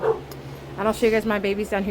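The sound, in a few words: dog barking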